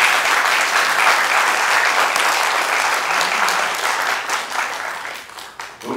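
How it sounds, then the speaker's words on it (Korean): A crowd at a South Korean Liberty Korea Party supporters' day event bursts into sustained, dense applause that holds steady for several seconds before thinning toward the end. "다시 한번 박수 한번 쳐주세요"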